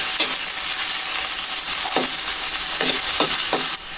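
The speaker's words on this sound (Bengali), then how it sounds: "দিয়ে দিচ্ছি পরিমাণ মতো তেল, পেঁয়াজ কুচি। পেঁয়াজগুলো আমি ভালোভাবে ভেজে নিব।" Chopped onions fry in oil in a pan with a loud, continuous sizzle, broken by several sharp scraping strokes of a stirring spoon.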